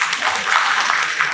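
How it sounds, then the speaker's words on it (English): Audience applauding blood donors at a World Blood Donor Day ceremony, a dense patter of clapping hands held at an even level throughout, with a voice talking over it. "A big wide round of applause to all the blood donors."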